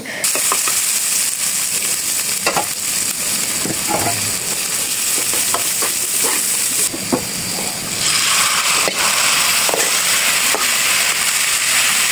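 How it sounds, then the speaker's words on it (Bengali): Fish fries in a pan in a home kitchen, a loud continuous sizzle and hiss running throughout with scattered sharp spatter pops and occasional utensil clicks, no voices. "এদিকে দেখো মাছটাও মোটামুটি ভাজা হয়ে গেছে"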